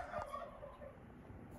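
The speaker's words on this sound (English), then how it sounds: "That is Tony the turkey in the background. I don't know if you heard him." A turkey gobbles faintly in the background from inside a chicken coop on a snowy day, a brief distant warble barely above the quiet ambient hiss.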